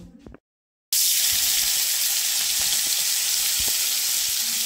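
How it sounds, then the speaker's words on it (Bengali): Turmeric and salt coated prawns fry in hot oil with a loud, continuous sizzle that starts abruptly after a brief clatter and silence, then holds steady throughout. "এখন আমি ভাজবো, হালকা মতন ভাজবো,"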